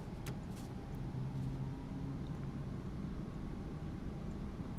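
Lockheed L-1011 TriStar engines in the iniBuilds flight simulator spool up toward takeoff thrust, a steady broadband jet rumble with faint whining tones, heard alone at moderate loudness.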